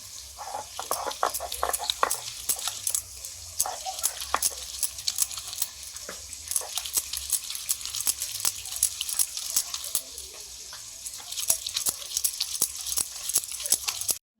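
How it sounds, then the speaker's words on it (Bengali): Steamed cabbage being ground by hand on a grinding stone with a pestle, a rapid, steady series of sharp scraping knocks repeating close and fairly loud, alone without talk. "ভাপানো বাঁধাকপিগুলো নোড়াতে বেটে নিচ্ছি"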